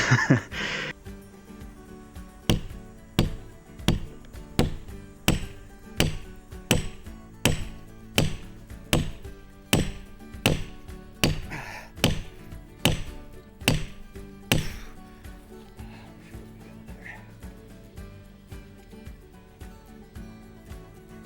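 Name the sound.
hammering a wedge into tree trunk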